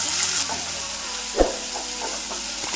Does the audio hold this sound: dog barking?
no